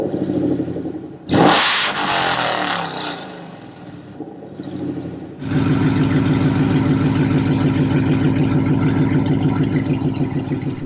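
A supercharged Ford F150 race truck with its exhaust headers dumped through a valve gives a sharp, loud rev, then drops to a rough idle and a second blip, before settling into a steady, loud, rapid burbling idle.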